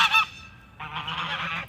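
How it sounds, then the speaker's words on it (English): Farm geese honk in two close, loud bursts, a brief nasal call followed after a pause by a longer sustained honk, with no talk over them. "Here's some of our geese"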